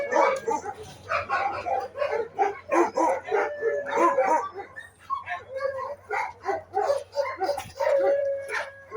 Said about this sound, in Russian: Посмотрите, какие здесь собачки сидят.